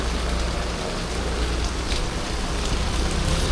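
Steady rain hisses down in a narrow alley in Korea, a dense and constant patter close by that swells slightly toward the end, with a low rumble underneath.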